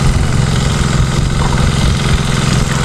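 A small farm engine runs steadily, loud and close, with a constant low rumble and slight vibration throughout, no voices.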